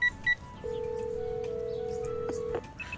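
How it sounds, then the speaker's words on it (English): In a video game phone call, a couple of short electronic tones give way to one long steady ringback tone, then a click, all fairly quiet and alone. "I call him, but the phone rings for a while before it connects"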